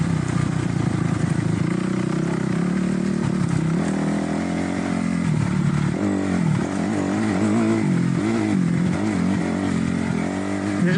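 A dirt bike ridden through puddles by a beginner, its engine droning loud and steady throughout with uneven revving and some splashing and scraping mixed in.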